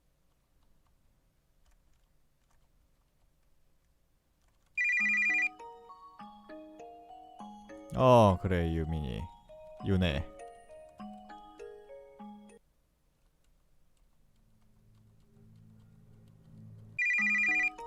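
An incoming call on a telephone brings short electronic ringtone bursts at the start and the end, with quiet ticking in between and a person speaking briefly in the middle.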